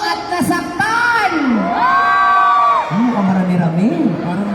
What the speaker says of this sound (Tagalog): Pumalakpak na may kasamang hiyawan yung mga niloko at nasaktan.